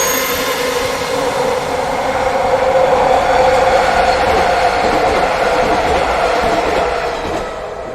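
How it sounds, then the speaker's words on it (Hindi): A passing train rumbles steadily and loudly with a broad roar, holding constant for about seven seconds before easing slightly at the end, with no voices. "ट्रेन उसके ऊपर से चली जाती है।"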